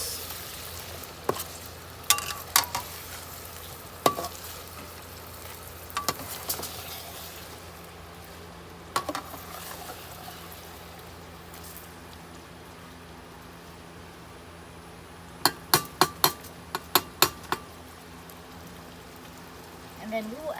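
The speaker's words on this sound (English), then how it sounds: "So stir the oyster sauce in evenly with the sauce." Oyster sauce being stirred into a red chicken sauce frying in a pan, for ayam masak merah: a steady low sizzle runs throughout, broken by sharp scattered clicks and scrapes of the utensil, clustered near the start and again near the end.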